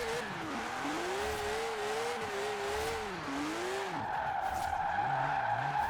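A drift-build bus with stock tires in Forza Horizon 4 sliding with a long wavering tire squeal over a steady engine drone, the pitch bending up and down as the skid continues, loud and close.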